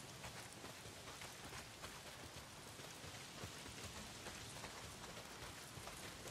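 Heavy rain pours steadily in the Days Gone video game, a dense, continuous hiss of drops striking surfaces at constant loudness with no voices.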